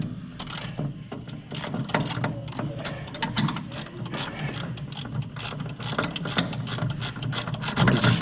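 Ratchet wrench clicks rapidly and steadily as ball joint nuts are snugged on a 1966 Ford Mustang upper ball joint, a dense run of close mechanical ratcheting with no talking.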